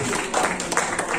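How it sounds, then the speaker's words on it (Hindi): Audience applause at a national Navodaya alumni meet in Delhi, a steady dense wash of clapping from a crowd filling the room throughout. "जोरदार ताली के साथ"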